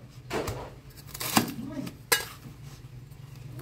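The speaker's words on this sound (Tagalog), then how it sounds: "So, hatiin ko muna yung repolyo." A knife cuts a head of cabbage in half on a kitchen board, giving a couple of sharp crunching chops close by against a low background hum, with no talk in between.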